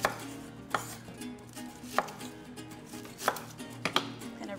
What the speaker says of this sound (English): So I'm gonna run my knife through the onion.